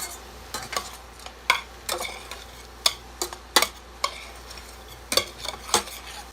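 Spices (chili powder, thyme, oregano and cumin) being stirred into a pan of salt, onion and garlic for hot dog chili, a soft sizzle under a series of sharp, irregular spoon scrapes and clinks against the pan.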